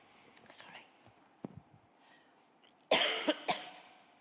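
A sick person coughs at a council meeting: after faint whispering, a few small coughs come first, then a louder burst of two or three coughs near the microphone.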